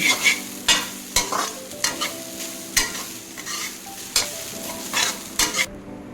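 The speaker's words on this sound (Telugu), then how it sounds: "అది కొంచెం వాసన రాకుండా వేపిస్తాము" Coconut mixture frying in ghee for rava laddus, stirred in a pan: steady close sizzle broken by repeated scraping strokes of a spoon at a fairly even rhythm, with no talk.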